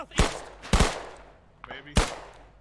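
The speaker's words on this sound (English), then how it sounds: "Taking fire! Machine gun, 300 meters southeast." Short machine gun bursts ring out in a riverine combat video game: three loud sharp volleys with gaps between them, and a faint voice briefly heard in a pause.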